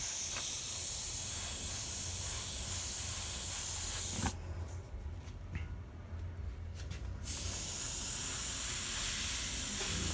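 An airbrush spraying paint to build soft cloud highlights over water with lightning gives a steady, close hiss that stops for about three seconds and then resumes just as strong.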